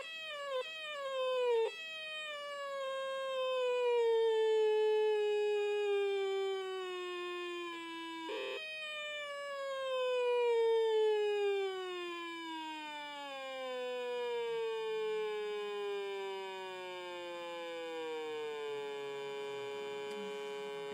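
An Atari punk console electronic circuit gives a buzzy, harmonically rich synth tone whose timbre shifts steadily as the pulse width is swept by a potentiometer, pitch gliding downward with a few jumps, sustained and alone.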